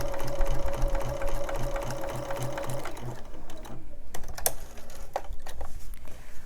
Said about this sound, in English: You can just sew straight through.